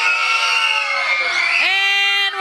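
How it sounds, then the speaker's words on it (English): A crowd of children at a church camp screams and cheers together in one loud, sustained, high-pitched burst, which breaks off into a few separate voices near the end. "I want you guys to scream if you're thankful that we got to have this camp today in this church"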